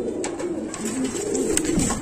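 Racer pigeons at a loft give low, rolling coos in a steady continuous stream, close and fairly loud, with a few faint clicks and no talking over them.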